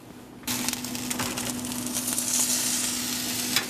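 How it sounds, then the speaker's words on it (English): Pork chops frying in a pan on a home stove, a steady crackling sizzle that jumps up loudly when they are flipped and keeps hissing with small pops throughout. "I just flipped my pork chops"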